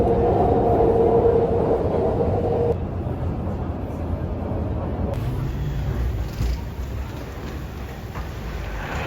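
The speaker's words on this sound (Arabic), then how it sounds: "هذه محطة مترو بالأول الأخير" A metro station in China hums with a broad steady rumble of trains and ambient station noise, shifting in character partway through as the surroundings change.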